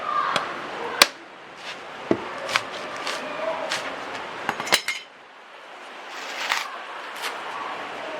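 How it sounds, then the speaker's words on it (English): Dried coconuts having their outer husks knocked off by hand: sharp chopping and cracking hits at irregular intervals, fairly close, over a quiet background. "What my dad is doing here, he's removing the outer husk, which is this part here"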